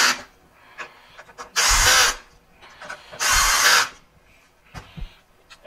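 Power screwdriver driving screws during repair of a Miele U1 S7 upright vacuum: two loud whirring bursts of about half a second each, close, with small clicks and handling noises between.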